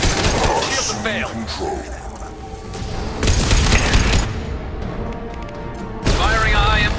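Heavy booms and bursts of gunfire from Mass Effect 2 Legendary Edition combat, including a powerful high-impact shot, with loud blasts that come and go under game voices.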